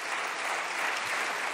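Brief burst of applause from the majority benches in the French National Assembly, a dense wash of clapping heard at a distance, steady and without voices.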